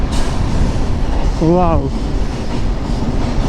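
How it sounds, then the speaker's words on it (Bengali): A freight cargo train passes by a bridge at the edge of Murshidabad district, giving a steady, loud, broadband rumble that fills the whole stretch while a person briefly exclaims partway through. "তবে ট্রেনটা ট্রেন আর কি, মালগাড়ি, কার্গো ট্রেন, যদিও প্যাসেঞ্জার ট্রেন না।"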